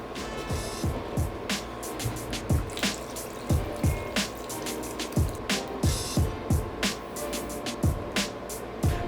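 Water and crushed tomatoes go into a pan of lasagna sauce, heard as repeated wet plops, drips and liquid splashes in an irregular rhythm over a soft steady background.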